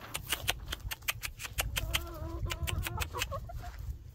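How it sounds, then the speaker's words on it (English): Silkie chickens cluck close by near their coop, short bursts of clucking repeating over about four seconds with nearby rustling and footsteps. "Little silkies are fast for a little bird."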